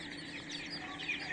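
Young chicks in a poultry rearing setup chirping softly, a faint continuous cluster of high peeping calls over a low background hum, with no talking.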